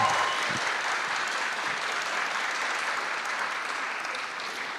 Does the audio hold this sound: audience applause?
yes